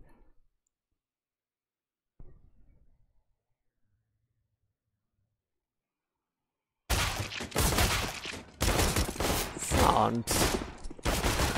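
Dense bursts of rapid gunfire from a Counter-Strike pistol round in a professional esports match ring out loudly in the second half, following near silence and a brief faint click, with a commentator speaking over it.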